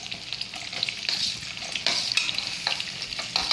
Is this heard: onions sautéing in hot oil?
yes